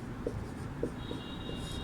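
Pen or marker writing a heading during a Hindi grammar lesson: soft scratchy strokes and light taps, steady and close, with no talking over them.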